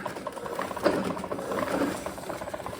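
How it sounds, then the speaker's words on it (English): A foot-operated spinner whirs and rattles as it spins water out, a fast mechanical patter of rough, ratcheting clicks, close and steady throughout. "Basically, it's a deal where you step on and it spins out all the water."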